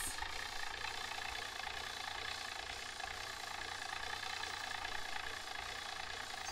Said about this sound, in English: So Steve is on the tractor to pull the forklift, which is holding the tiny house.